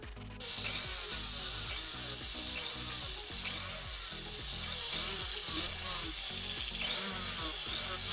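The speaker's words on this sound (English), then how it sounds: "the last thing to do is sand down and polish the piece." A silver crescent moon pendant is sanded and polished with a rotary tool, giving a continuous whirring grind with rapid rhythmic scratching that keeps up for several seconds at close range.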